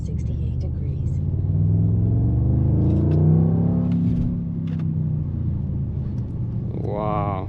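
A 2026 Mercedes-AMG GT 63 4-Door V8 sedan accelerates hard, its engine rumble swelling and rising in pitch from inside the cabin, with people talking over it.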